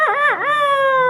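A human voice imitates a chicken with a single drawn-out crow, loud and close, with sliding pitch that settles into a long held tone, heard alone without other talk.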